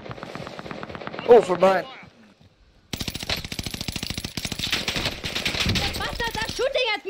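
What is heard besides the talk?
gunfire in Warzone Pacific video game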